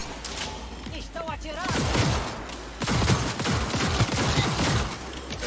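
Video game gunfire in Cyberpunk 2077 crackles in quick, scattered volleys of shots, with players talking over it throughout.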